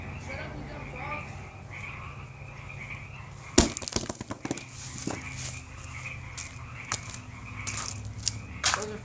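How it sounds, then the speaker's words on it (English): A chorus of frogs croaks steadily in the background, a continuous rhythmic calling under scattered sharp cracking and crunching sounds, with voices speaking now and then. "Those are frogs in the background."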